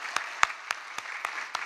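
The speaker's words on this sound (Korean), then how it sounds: "여러분 박수로 우리 하나님께 감사드립시다." Applause from a church congregation during a Sunday worship service: six evenly spaced, crisp clap-like hits over a faint, steady patter, fairly quiet and somewhat distant, with no voices.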